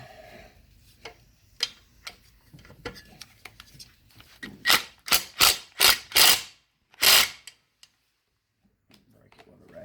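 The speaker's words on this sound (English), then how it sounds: "Break it with a ratchet." A ratchet loosens a bolt on a 1974 Johnson 70hp outboard motor, first a few scattered clicks, then a run of loud, close, rhythmic ratcheting bursts, followed by near silence.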